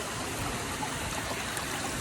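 Flowing stream water in Puerto Rico, a steady close rushing trickle with constant broadband hiss throughout, no voices.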